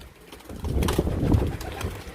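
Pigeons coo close by in a steady murmuring run of low, throaty calls that overlap with a soft rustle. The birds are kept for sale.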